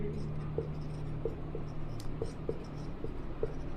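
Chalk scratches and taps on a board during a maths lesson on polynomials, producing a series of short, evenly spaced clicks and strokes over a steady low room hum.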